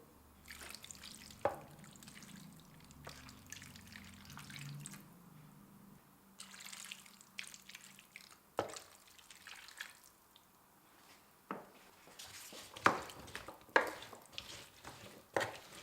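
Two cups of water poured over rice and vegetables in a kitchen, with soft splashing and dripping amid light clinks and stirring, quiet and close with no talking.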